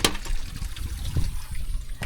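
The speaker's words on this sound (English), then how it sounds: "it's pushing water clear down here into this pipe, and it's running out right there" Ditch water pours out of a pipe in a close, steady gurgling rush with splashy pulses throughout.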